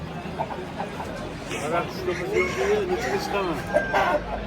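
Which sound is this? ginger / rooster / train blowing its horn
rooster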